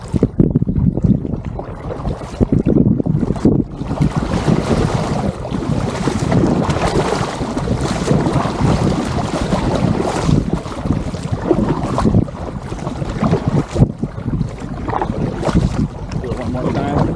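An inflatable kayak paddle pivots and swishes through lake water, with soft sloshes and splashes under steady wind buffeting on the microphone.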